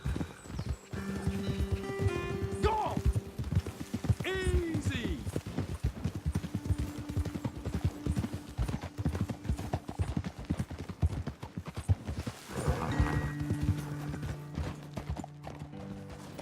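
Horses in Red Dead Redemption 2 gallop along a hillside trail with rapid, steady clip-clop hoofbeats, a few whinnies and snorts, and occasional short spoken lines from riders over the hooves.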